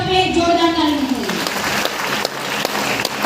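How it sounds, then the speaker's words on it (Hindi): Applause from an audience at a sales meeting breaks out after a raised voice fades, growing into scattered, moderately loud clapping that carries on to the end. "आप लोग एक जोरदार ताली बजाइए"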